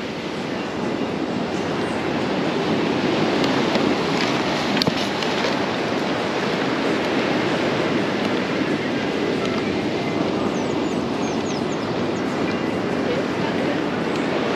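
Rough, agitated sea breaking on Canto do Poá beach in Penha, a constant loud roar of surf with no pauses, steady and close throughout.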